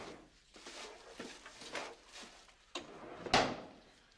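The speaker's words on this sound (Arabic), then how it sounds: "بس لنروح سكر باب" A door at home shuts with a sharp thud near the end, after soft shuffling and handling noises, fairly faint overall with no talking.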